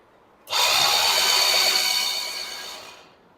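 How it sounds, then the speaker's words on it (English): A 1970s outboard motor cranked over with its spark plugs removed to blow out debris, a sudden loud whirring rush that holds steady for over two seconds and then fades away, close by. "So we're gonna blow any debris that might be in the motor out."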